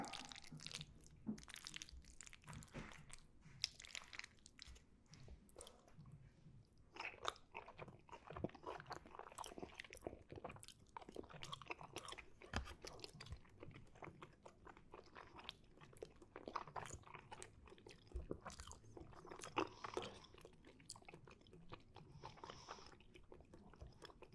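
Close, soft bites and wet chewing of steak with toppings in an ASMR mukbang, with repeated crunchy and juicy mouth sounds running throughout and no talk.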